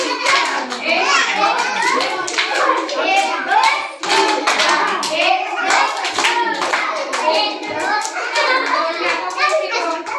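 Children clapping their hands together in a classroom activity, quick, fairly close claps repeating through the whole stretch, mixed with lively children's voices.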